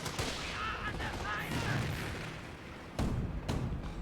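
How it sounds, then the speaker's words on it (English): In Company of Heroes combat, a frag grenade bursts among rumbling gunfire, and heavy booms land near the end amid a continuous low battle roar with a faint voice underneath. "Now the airborne squad will rush forward with a frag grenade."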